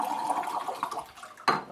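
About a liter of water swirled into a vortex in a container while preparing blue-green algae, a soft sloshing and trickling swirl that ends in a brief splash, close and fairly quiet.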